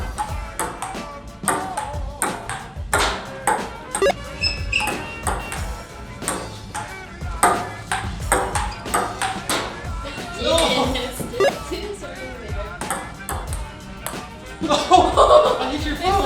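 A ping pong rally on a table in a Las Vegas penthouse, with a steady run of sharp, close clicks as the ball strikes paddles and table, while people talk and laugh throughout.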